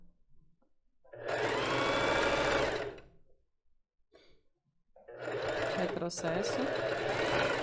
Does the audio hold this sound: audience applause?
no